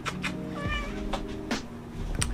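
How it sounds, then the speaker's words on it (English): An unruly house cat meows repeatedly indoors, with several short, close, moderately loud calls spread over about two seconds against faint background noise. "This cat's out of control."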